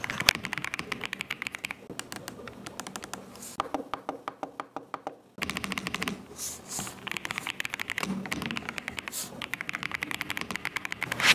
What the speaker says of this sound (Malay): dan jom kita buat keyboard test.